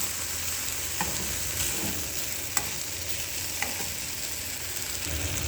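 Food sizzling and frying in a pan, a steady close hiss with occasional soft pops and stirring scrapes, heard alone without talk.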